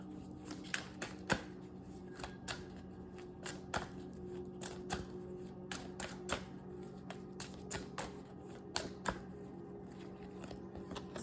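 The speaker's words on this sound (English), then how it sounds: "I'm pulling a couple cards to see any more signs that may want to pop out for y'all." Tarot cards shuffled and drawn by hand, giving a long run of soft, irregular flicks, taps and riffles, quiet and close, with no voices.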